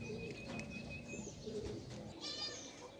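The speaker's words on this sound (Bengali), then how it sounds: "গোলা কবুতর হাজির" Pigeons cooing outdoors near a mango tree where they land: low, soft coos at a moderate distance, with a few higher bird chirps and some background noise, no talking.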